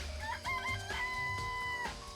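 Chickens in a coop in the Danganronpa video game cluck and call in short, bright bursts, a rooster-like crow rising over a steady background hum.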